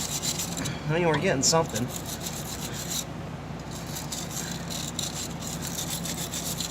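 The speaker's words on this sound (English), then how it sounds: "Try and scrub out some of that rust and decay." A rusty O2 sensor from a K1500 is scrubbed by hand, giving short bursts of rasping, scratchy strokes up close, with a person talking partway through.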